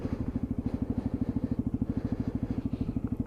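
A Lexmoto ISCA motorcycle idles close by as it is pulled up and parked, its single engine chugging in a steady, rapid low pulse with light mechanical clatter throughout.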